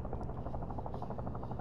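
A helicopter flies in the virtual reality game Virtual Battlegrounds, its rotor thumping in a steady rapid rhythm under a constant engine drone.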